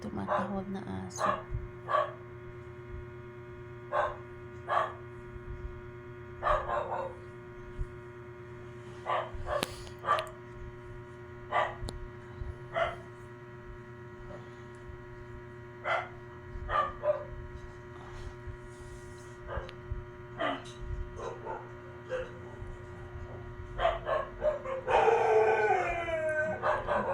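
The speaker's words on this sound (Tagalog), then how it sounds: "May tumatahol na aso." A dog barks repeatedly in short bursts at a moderate distance, scattered across a steady background hum, with a brief louder burst of noise near the end.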